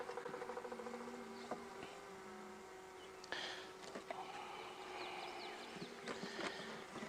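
Honey bees swarm around an open package hive during an inspection, making a continuous soft buzzing hum with individual bees zipping past nearby.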